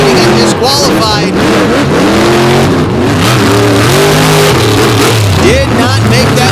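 Racing trucks roar at full throttle in a drag-style race run, with loud sustained engine wails that rise and shift pitch, and an announcer talks over the din.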